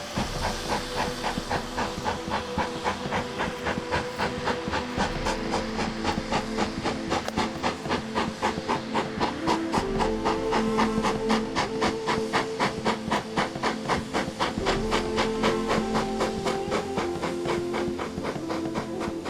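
A train rolls past with a loud, steady rhythmic clickety-clack of wheels over a hissing rush that swells and carries on.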